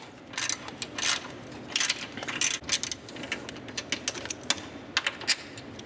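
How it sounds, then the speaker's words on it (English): A wrench ratcheting off a 10 millimeter bolt on a 2013+ Subaru BRZ during a brake master cylinder brace install, heard as rapid close clicking bursts with brief pauses between strokes. "now I can get a wrench in here and get that 10 millimeter bolt off"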